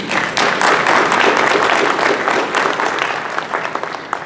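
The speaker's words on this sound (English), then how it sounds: "I think that deserves a round of applause for each of you" Seminar audience at a veterans' volunteer services convention breaks into sustained applause, dense steady clapping from many hands filling the room, close and loud, slowly thinning toward the end.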